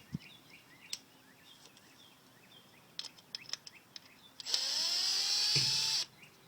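Screws backed out with a powered Phillips bit driver on a Yamaha 4x4 servo assembly, a few faint clicks and taps followed by one loud, steady whirring run of about one and a half seconds.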